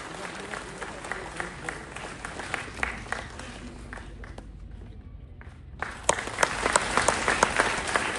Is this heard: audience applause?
yes